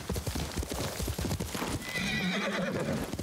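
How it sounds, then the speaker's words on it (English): Horse hooves clip-clop in a steady rapid rhythm, then a horse whinnies loudly near the end, all in the video game Ghost of Tsushima, with no talking over it. "And a horse."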